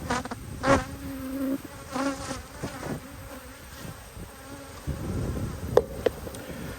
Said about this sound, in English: So this is getting robbed, so I'm going to shake some bees off it.